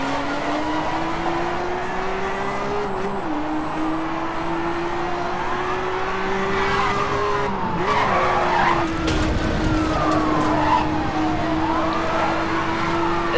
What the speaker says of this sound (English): I just accidentally spun out.